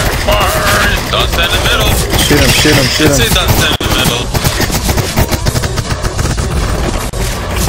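Loud, dense rapid gunfire from a CS:GO zombie mode match, bursts of shots crackling continuously throughout with voices talking over the shooting.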